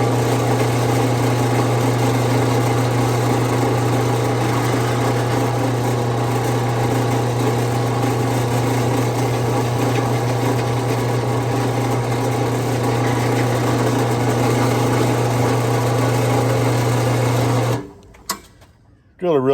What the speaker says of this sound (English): Drill a really nice little hole in it.